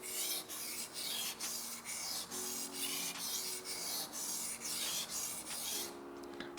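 A kitchen knife tip scrapes back and forth across a whetstone in a steady series of about a dozen quick, rasping strokes, evenly spaced and close up, with no talk.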